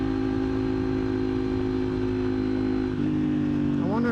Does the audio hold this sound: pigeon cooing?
no